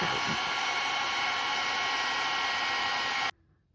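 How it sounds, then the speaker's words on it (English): Heat tool blowing hot air over embossing powder on papercraft flower embellishments, a steady close whoosh lasting a few seconds before cutting off abruptly. "my heat tool's already warmed up a little, so we'll go ahead and get that"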